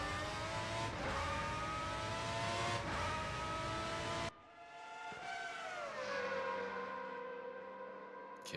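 Formula Raceroom X90 race cars lap a track in the RaceRoom video game, one engine revving high before an abrupt cut, then another engine sweeping down and back up in pitch, moderately quiet with no voices.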